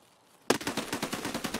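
Rapid automatic gunfire in the shooter game Escape From Tarkov bursts in after half a second of near silence, then continues as loud, close, evenly spaced shots.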